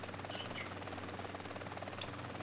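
A helicopter in the video game MTA: San Andreas hovers over water with a steady, dense rotor roar that stays loud and even throughout.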